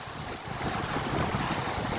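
Strong floodwater rushes during Typhoon Kristine in Dilasag, a loud continuous roar of churning water and gusting wind that swells slightly after the first half second, with no voices.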